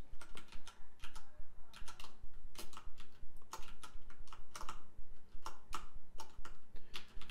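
A computer keyboard lacking arrow keys clatters with rapid bursts of keystrokes, close and crisp, in an uneven rhythm of quick runs and short pauses, with no voices.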